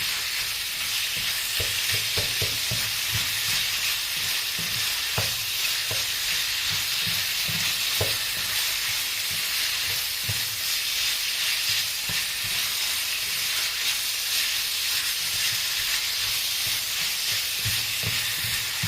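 Beef being stirred and sautéed in a frying pan gives a steady sizzle with soft scraping and clinks from the stirring spoon, moderately close and without speech throughout.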